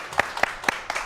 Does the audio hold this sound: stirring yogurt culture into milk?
no